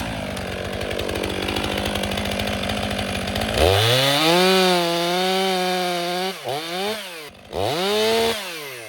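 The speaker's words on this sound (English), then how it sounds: "Look, Ma, a no-nonsense chainsaw." A stock chainsaw bites through a firewood log with a rough, loaded snarl, then revs freely in loud, high whining bursts that briefly dip and climb again. No one speaks.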